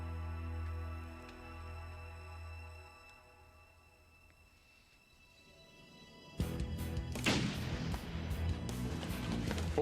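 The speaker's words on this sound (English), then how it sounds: "Sounded like a gunshot." A gunshot in a TV soap opera scene: after a quiet low hum, a sudden loud crack breaks out followed by a noisy, crashing burst of sound that continues to the end.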